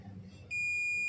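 A multimeter set to continuity gives a steady high-pitched beep when its probes touch both ends of a mobile phone coil, starting halfway through and sustained, close and clear after a quiet start.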